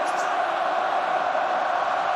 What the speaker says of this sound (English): The cheers continue.